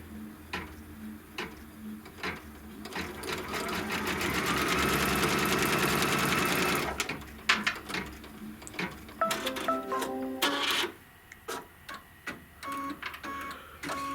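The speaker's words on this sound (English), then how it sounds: "the next thing it's going to stitch is going to be the actual seam. That's going to sew those 2 pieces together" An embroidery machine sews the seam joining two fabric pieces, a loud steady rapid mechanical stitching run for several seconds, then breaking into shorter bursts of clicking and whirring with pauses.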